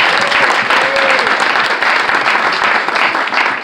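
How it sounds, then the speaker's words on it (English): Audience at a clergy council dinner gives a sustained round of applause, many hands clapping together in a full, close wash that stays strong before easing slightly at the end. "Can we give him one more round of applause?"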